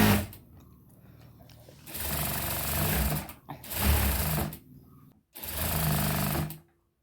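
A sewing machine stitches the lining of a saree blouse in three loud, steady bursts, with short quiet gaps between runs.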